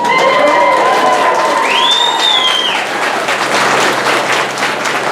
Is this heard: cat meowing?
no